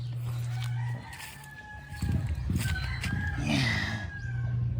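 Pet roosters and hens, including guipeg, alimokon, labuyo and Rhode Island Gray chickens, crowing and clucking close by, with several overlapping crows and a low hum underneath.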